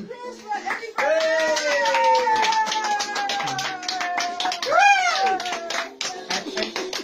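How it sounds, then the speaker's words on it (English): A small group claps hands together in a Kingdom Hall style setting, brisk close clapping running through the clip while voices, including sing-song speech, carry on over it. "You have big round applause for everybody!"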